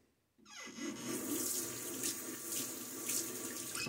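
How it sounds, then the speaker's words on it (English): A tap is turned on to add water to a shaving bowl, and a steady, close stream splashes and hisses into the basin after a brief quiet start. "go ahead and add some more water to the bowl there"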